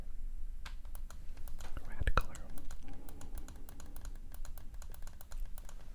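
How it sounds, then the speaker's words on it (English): A custom Game Boy Advance with a clear shell and red crystal buttons gets its buttons pressed close up, a rapid series of sharp clicks with one brief louder clatter, under soft whispering. "bring it a little bit closer to the microphone so you can hear the clicky buttons"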